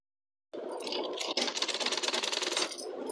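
Sewing machine stitching a blouse, starting abruptly and running in a steady close rapid mechanical whir with fast rhythmic clatter for under three seconds.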